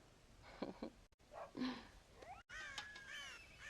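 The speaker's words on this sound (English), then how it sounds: "God damn crows!" Crows caw in the Western video game Red Dead Redemption, several harsh calls in quick succession near a farm silo, fairly clear and close.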